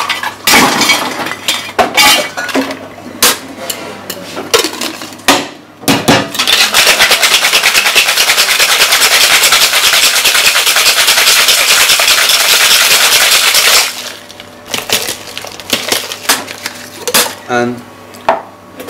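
A cocktail shaker is shaken hard with a margarita of tequila and ice inside, giving loud continuous rattling of ice for about eight seconds, framed by clinks and handling noises before and after.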